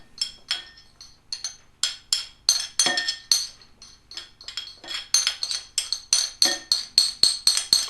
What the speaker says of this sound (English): then stir it all up.